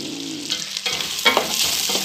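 Onion, ginger and garlic sauté in hot oil for papaitan, a bright, steady sizzle up close with a few scraping stirs, no voices.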